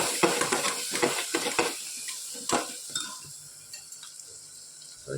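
A spoon scrapes and clatters through a vegetable mixture with turmeric, coriander-cumin powder, garam masala and salt in a pan, quick irregular stirs over a soft sizzle that fades toward the end.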